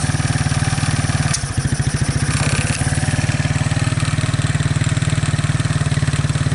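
A 2001 Suzuki Quadrunner 250 4x4 ATV engine idles with a loud, steady low chugging pulse, close up, with a brief slight wobble in speed and no talking over it.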